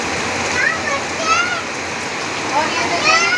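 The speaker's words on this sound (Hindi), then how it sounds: "देखिए कितनी तेज बारिश हो रही है" Heavy nighttime rain pours steadily in a dense, unbroken hiss close by, with no talk over it.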